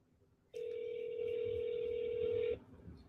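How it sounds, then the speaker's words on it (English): An auto-dialer phone placing a call gives a steady two-tone electronic dial tone that runs about two seconds alone, then cuts off into quiet. "I can coach you guys while my phone is dialing"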